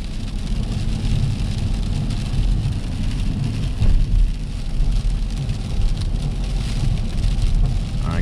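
Constant gritty pattering of sleet against a car windshield, steady and close, with a low engine or road rumble underneath.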